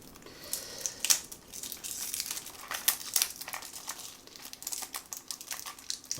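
Plastic wrapping is crinkled and torn off a K-pop album cassette, giving close, irregular bursts of crackling and rustling with short pauses between them.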